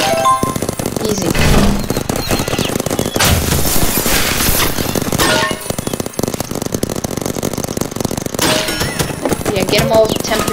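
A semi-automatic gun fires in a shooter video game: rapid bursts of loud, sharp shots with brief gaps between volleys, along with metallic pings, as a player talks over the action.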